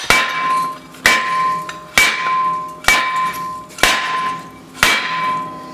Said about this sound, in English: you wanna give it a nice, big, mean few hits and it should pop right off